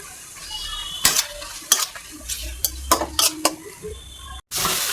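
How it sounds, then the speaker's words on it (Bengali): Spice pastes of ginger, garlic, cumin and onion with ground chilli, turmeric and coriander being sautéed in a pan, a running sizzle broken by repeated sharp scrapes and clinks of a spoon against the pan. "অল্প একটু পানি দিতেছি মশলাটা কষানোর জন্য।"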